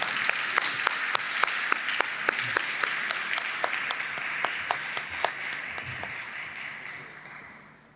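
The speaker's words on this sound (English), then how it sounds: "Round of applause to Mero." An audience applauds an award winner named Mero at a 2019 pitch competition ceremony, steady crowd clapping with a few sharper individual claps standing out, tapering off toward the end with a faint voice underneath.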